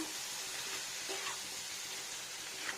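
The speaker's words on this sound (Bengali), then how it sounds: "এবারে কুমড়ো আর ডিম দিয়ে নেব একসাথে এটা এত টেস্টি হয় ভালো করে মিলিয়ে নেব" Pumpkin and fish roe frying in a pan while being stirred, a steady close sizzle with faint scraping of the spoon throughout, no voices.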